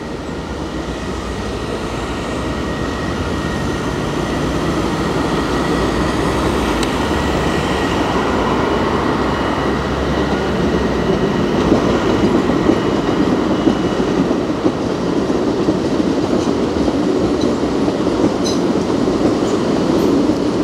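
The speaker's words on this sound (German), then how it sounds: "hier sehen wir gerade, wie die S-Bahn in den Tunnel Hauptbahnhof runterfährt und eine andere kommt gerade hoch" S-Bahn commuter trains running through the Hauptbahnhof tunnel approach near Wolframstraße in Stuttgart, one descending into the tunnel as another climbs out, giving a steady, loud rail rumble with wheel clatter throughout and no voices.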